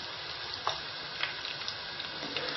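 Meat frying in hot oil in a pan, a steady close sizzle with soft crackles and a few small pops, no talking.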